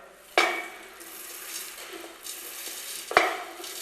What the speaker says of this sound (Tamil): மல்லி வந்து இந்த அளவுக்கு ரொம்ப சிவக்காமல் சூடேறினா போதும் இந்தளவுக்கு வறுத்தா போகிறோம்